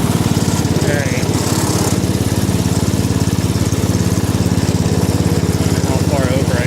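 A small Cub tractor engine runs steadily close by, a constant buzzing drone as the tractor is moved, with a few faint squeaks over the top.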